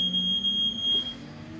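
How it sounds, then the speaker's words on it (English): A smoke or fire alarm sounds a high, piercing, steady electronic tone for over a second, then cuts off, over a low background hum. "oh my fire alarm"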